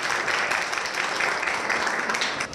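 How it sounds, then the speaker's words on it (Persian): A room full of people applauding a student in a stress-themed mental health class: dense, steady clapping from many hands throughout, fading slightly at the end, no voices. "یک تشویقی بکنیم دوست خوب"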